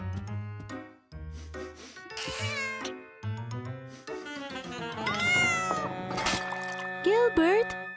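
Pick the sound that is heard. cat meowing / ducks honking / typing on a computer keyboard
cat meowing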